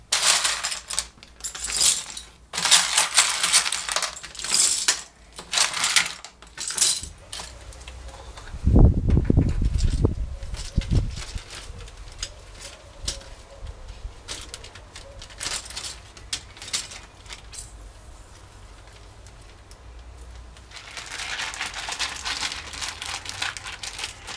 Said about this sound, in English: think I'll put these in a Ziploc bag and put some hydrogen peroxide stuff in there